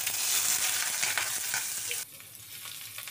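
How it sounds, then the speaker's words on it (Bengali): Chopped onions crackle and sizzle in hot oil in a pot, loud and close at first, then the frying drops to a softer hiss for the last second. "পেঁয়াজ কুচিটাকে কিছুক্ষণ ভেজে নিব।"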